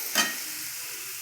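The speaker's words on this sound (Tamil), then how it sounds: "தக்காளி நல்லா வணங்குற வரைக்கும் வணக்கிக்கிறேன்." Tomatoes sautéing in a pan with turmeric and salt, a brief stirring scrape then a steady soft sizzle that continues alone.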